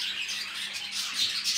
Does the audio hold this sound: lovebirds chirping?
yes